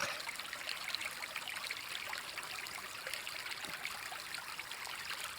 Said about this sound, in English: Is that real sound from that water